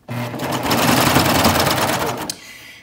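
A sewing machine stitching back over its starting stitches runs in one continuous, fast, close mechanical whir for about two seconds before stopping.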